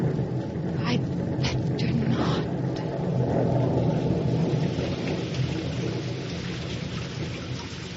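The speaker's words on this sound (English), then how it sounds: "The rain has come, even as the Lord promised." Heavy rain pours down steadily through a thunderstorm, broken by several sharp cracks of thunder early on and a deep rolling rumble under the downpour, with no voices.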